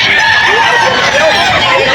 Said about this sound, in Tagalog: Marami ka ba dalang manok ngayon?